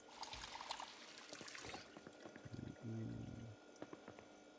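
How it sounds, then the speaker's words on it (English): Water is poured into a bowl in Project Zomboid as a faint, brief trickle and fill, heard alongside soft game clicks and a short humming tone, with no talk. "fill our bowl with water"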